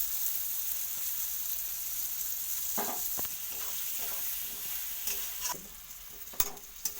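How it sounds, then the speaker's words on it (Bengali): Tomato and spices for a mutton curry fry in a pan with a steady sizzle, broken by a few distinct scrapes of stirring near the end. "একটু টমেটো ছিল দিয়ে দিচ্ছি টমেটোটাকে একটু নাড়বো"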